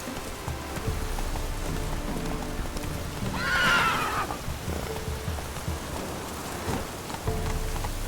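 Roach, Geralt's horse in The Witcher, trots with soft clip-clopping hooves over a rainy road, letting out one clear whinny midway while rain patters steadily in the background.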